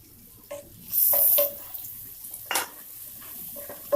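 Chopped onions sauté in a pan for paneer butter masala, a soft sizzle broken by sharp stirring scrapes and clinks of a spoon against the pan, close and alone.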